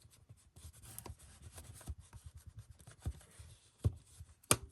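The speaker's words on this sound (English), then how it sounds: "I'm going to grab my bone folder." A bone folder rubs and scrapes softly across paper during a papercraft project, quiet and close, with a few sharper taps near the end.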